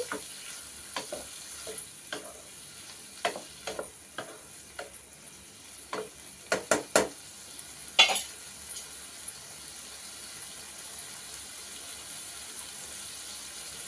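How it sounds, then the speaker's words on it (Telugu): Prawns sizzle quietly in hot oil with a steady soft crackle, broken by a series of sharp clicks and scrapes as a utensil stirs them in the pan. "ఈ రొయ్యలు ముందుగా ఇతర నూనెలోనే ఉడకపెట్టుకొని తీసి పక్కన పెట్టుకోవాలండి"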